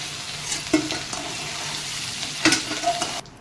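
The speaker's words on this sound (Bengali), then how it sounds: "এই আমার কাঁকড়াগুলো ভাজা হয়ে গেছে তেলের পরে" Sea crabs sizzling in hot oil as they finish frying, with a steady crackle broken by a few clattering stirs of a spatula before the sound cuts off abruptly.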